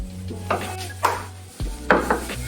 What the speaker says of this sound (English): I'm gonna just toast the almonds that we're also gonna put in the salad